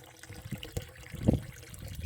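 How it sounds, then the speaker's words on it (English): Clear, cool spring water flows out of a natural outlet with a soft, faint trickle and gurgle, steady and close, with no talking. "here it is, coming right out of there, just crystal clear, cool, and it's living water"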